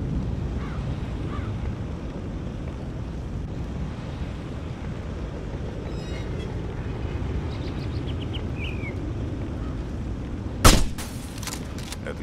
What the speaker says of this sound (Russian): Отличный выстрел, друг.